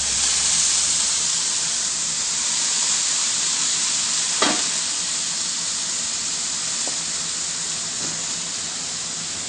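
Food sizzles and steams under a dome on a Blackstone griddle, a steady loud hiss throughout, broken by a brief clink partway through.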